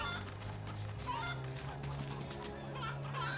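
Chickens clucking in the Medievil video game, a few short, soft clucks over a steady low game hum and ambient drone, with faint talk underneath.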